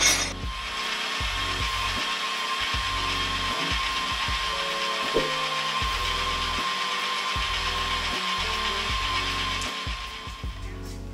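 A stand mixer with a dough attachment runs continuously, kneading gluten-free pizza dough with a steady motor hum and irregular knocking of the dough against the bowl, close and constant throughout.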